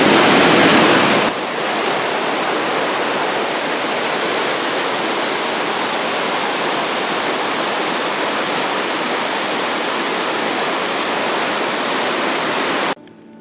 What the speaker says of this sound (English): we're gonna start with this waterfall